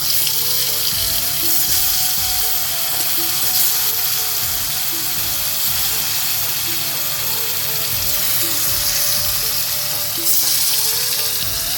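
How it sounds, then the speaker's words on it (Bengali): Chhana (cottage cheese) frying in hot oil in a home kitchen, a steady broadband sizzle and crackle that holds evenly throughout, close and fairly loud with no voices. "তেলটা গরম হয়ে গেছে এখন ছানাটা বেজে নিচ্ছি"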